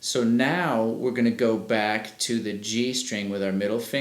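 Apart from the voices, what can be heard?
No everyday noise stands out behind the speech.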